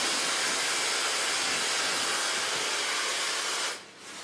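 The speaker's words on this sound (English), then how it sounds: "So far blow drying." A hair dryer blows hair at a salon with a steady, loud, close rushing whoosh that holds for several seconds, then drops sharply as the airflow is cut near the end.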